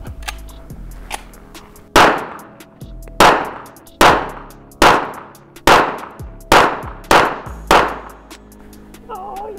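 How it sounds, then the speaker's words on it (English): Eight sharp gunshots from a 1911 pistol firing .45 caliber full metal jacket rounds, loud and close, spaced roughly half a second to a second apart, each with a short decaying ring. "This is a 1911, shooting .45 caliber full metal jacket rounds."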